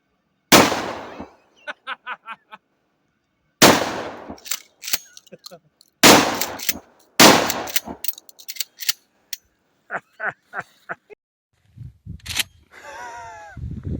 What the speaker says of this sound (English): You got to shoot both barrels